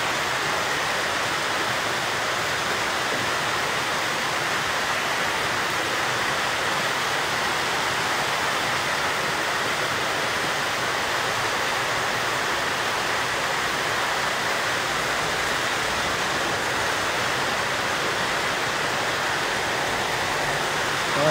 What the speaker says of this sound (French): Voilà la filtration.